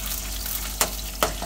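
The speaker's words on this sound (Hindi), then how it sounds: "अब इस पेस्ट को हमने अच्छे से इसके अंदर मिक्स करना है।" Paste being stirred into spicy Maggi noodles in a pan makes a brief wet sizzle, with two sharp scraping clicks from the spoon against the pan.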